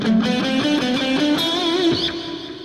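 Distorted electric guitar plays a fast lick with the neck pickup and volume rolled back slightly, a continuous stream of bent and sustained notes at steady loudness, alone with no talking.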